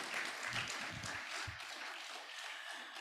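Conference attendees at an institute's annual directors conference opening session applaud Alhaji Borodo, a full, continuous burst of clapping that stays strong for a few seconds before easing slightly.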